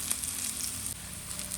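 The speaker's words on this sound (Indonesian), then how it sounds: "Goreng-goreng aja ayam sampai garing." Chicken pieces fry with red chili in hot oil until crisp, a steady, even sizzle with fine crackling throughout, close and moderately quiet, with no voices.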